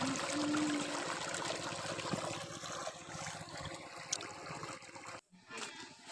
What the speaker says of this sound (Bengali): এখন দেখো এখান থেকে জল দেওয়া হচ্ছে, এই যে পাইপ থেকে জল পড়ছে, মোটর চলছে